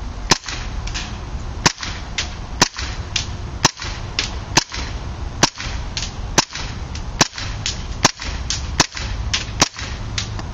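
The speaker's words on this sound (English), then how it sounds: "First on semi-automatic, then it'll be on 3-round burst," A KWA M93R airsoft pistol fires eleven sharp, evenly spaced cracks, roughly one per second, loud and close, each shot standing out over a steady background rumble.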